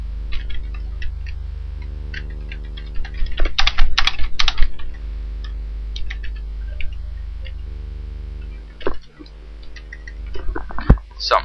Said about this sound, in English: I'm just going to type in this.